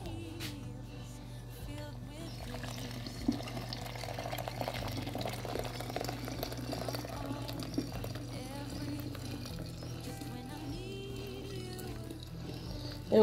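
Hot water is poured over ground coffee in a rural kitchen, making a low, continuous pouring sound with soft gurgles, while a voice talks faintly in the background.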